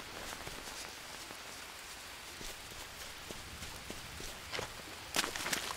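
Steady rain hisses across the jungle survival game Green Hell, with scattered drops and soft patters over a constant wash, and a louder burst near the end.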